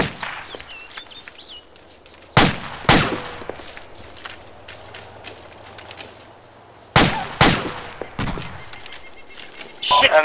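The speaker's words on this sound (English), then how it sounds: "Enemy gunfire to the north." Sharp, sporadic gunshots in Arma 2 crack out in small clusters over a low rumbling background, with faint chatter and movement in between.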